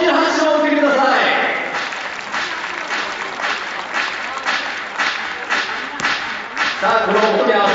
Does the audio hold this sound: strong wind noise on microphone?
no